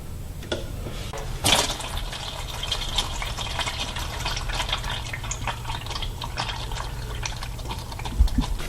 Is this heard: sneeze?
no